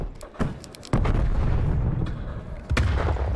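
ZRG 20mm sniper rifle firing in Call of Duty: Cold War, heavy booming shots with sharp cracks, two big reports followed by rumbling tails, alongside a few smaller clicks.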